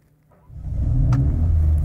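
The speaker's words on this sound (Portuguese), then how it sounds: "olha só, vamos ver se a gente pega um pouco do ronco" A Mercedes-AMG A 35 with its exhaust valve open starts up close by, catching after a faint crank and settling into a deep, loud rumbling idle around 2,500 rpm.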